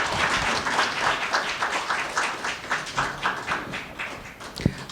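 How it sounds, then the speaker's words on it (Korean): Audience applauding an ambassador after a lecture at a Nobel Peace Prize 25th anniversary ceremony, sustained dense clapping from a hall crowd with one sharper tap near the end. "귀한 강연해 주신 대사님께 다시 한번 큰 박수 부탁드리겠습니다."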